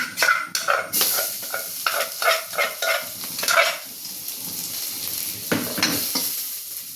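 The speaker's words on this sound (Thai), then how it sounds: "มาค่ะผัดกะเพราเลย พริกกระเทียม" Holy basil, chili and garlic are stir-fried in oil with a spatula, giving close scraping and stirring strokes over a steady sizzle, with a few louder clatters against the pan.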